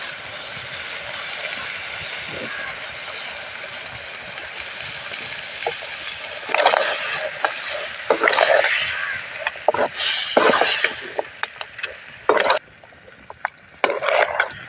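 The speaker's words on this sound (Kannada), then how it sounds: "ಇವಾಗ ಈರುಳ್ಳಿ ಟೊಮೊಟೊ ಎಲ್ಲ ಚೆನ್ನಾಗಿ ಫ್ರೈ ಆಗಬೇಕು ಇದರಲ್ಲಿ" Chopped onion, tomato and coriander fry in a pan for a pork fry, with a low sizzle running underneath. Sharp scraping stirs and metallic clinks grow busier in the second half.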